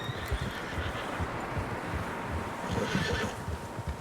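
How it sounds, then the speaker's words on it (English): Several horses whinny and neigh in a Red Dead Redemption 2 outdoor scene, with dense clip-clopping hooves throughout and a louder neigh near the end, no talking. "Horses, quite a few of them."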